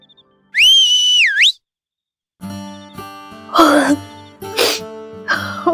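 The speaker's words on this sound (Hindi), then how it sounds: "इस डायलॉग में सीटी जरूर बचती है" In a Hindi comedy scene, a sharp rising and falling whistle rings out right after a romantic line. A pause follows, then throat-clearing and cough-like vocal sounds.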